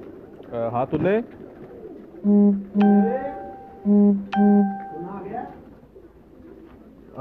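Loft pigeons on a Faisalabad rooftop murmur and coo close by, mixed with several loud, sustained vocal tones from a person and short bursts of activity.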